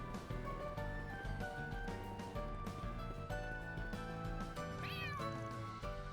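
A cat meows in the Central Marché area of the video game Trails Through Daybreak II, its calls sitting under a steady, busy bed of game music that runs the whole time.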